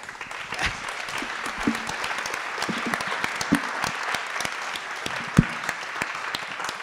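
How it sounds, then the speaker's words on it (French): Audience at a housing-law debate applauding, steady clapping from a seated crowd with a few louder claps standing out, continuous for several seconds with no speech. "Je vous demande de les applaudir."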